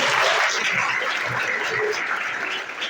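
A parish congregation claps for its group of altar servers at the close of a patron saint's festival for Saint Anthony of Padua. The applause is dense and steady, filling the whole stretch and easing off slightly at the end.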